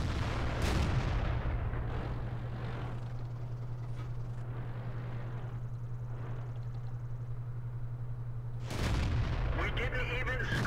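Heavy tank-gun blasts from an M18 Hellcat fired from behind a bush in World of Tanks, a loud boom near the start and another near the end over a constant low engine rumble and battle ambience.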